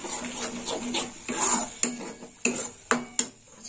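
Tomato paste and spices being stirred in a pan, with a spoon scraping and clinking against the metal in several sharp, irregular knocks over a soft, low sizzle.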